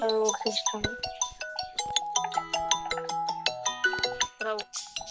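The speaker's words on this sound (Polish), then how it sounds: "Ej, ktoś do mnie dzwoni." A melodic electronic phone ringtone plays continuously in a rapid tinkling pattern of tones, loud and close, with a voice talking over it.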